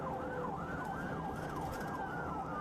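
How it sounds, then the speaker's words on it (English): Emergency vehicle siren blaring as it drives to a call, a continuous rising and falling wail over steady road and engine rumble, loud and sustained. "Lights and siren on, just ripping through to get to the call."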